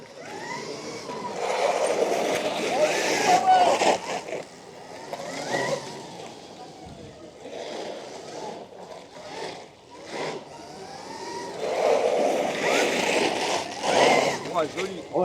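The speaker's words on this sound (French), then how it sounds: "On va tester la moto." An electric adventure motorcycle is test ridden at an e-bike and e-moto adventure festival, its whirring drive rising and falling, with wind rush and people talking over it.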